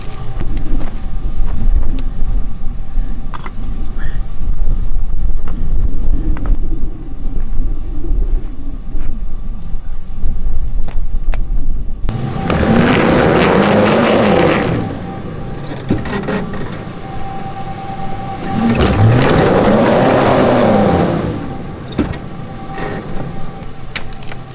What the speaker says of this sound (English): I need to get a little more traction out of these back tires.